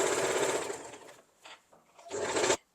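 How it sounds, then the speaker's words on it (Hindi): A sewing machine stitches elastic onto the fabric of a peplum top, running in bursts: a steady mechanical whir for about a second, a brief short run, then another strong run before stopping. The sound is close and clear, with no talk. "बस इसके ऊपर हम ऐसे सिलाई चला देंगे"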